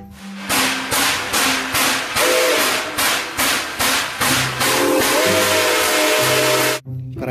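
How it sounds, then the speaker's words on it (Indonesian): Rhythmic, loud hissing chuffs of a toy steam train, with a high whistle tone sounding through the later chugs before a brief silence. "Kereta uap."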